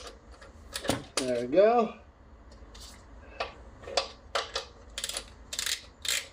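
A wrench breaking loose and turning a 14mm oil drain bolt under a Nissan Frontier 4.0L V6, a series of sharp metallic ratcheting clicks close by, with someone speaking briefly.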